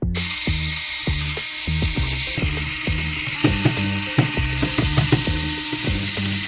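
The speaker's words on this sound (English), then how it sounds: "All these screws are holding down the front bezel. Let's remove them." Screws being backed out of the front bezel of a Lenovo ThinkCentre all-in-one computer, a close rapid ratcheting click from a hand screwdriver repeating in quick bursts, with no talking.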